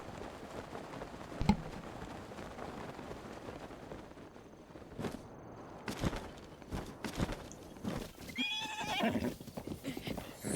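Horse neighing with hoof clip-clop in Breath of the Wild, a whinny rising near the start and later, steps and movement scattered through amid game ambience, no talking.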